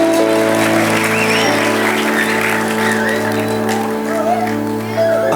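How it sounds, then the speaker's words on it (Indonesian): Church youth service crowd clapping and cheering together, a dense sustained wash of applause with shouts and whoops over steady music, loud and continuous throughout. "Kasih tepuk tangan dulu dong buat Tuhan kita"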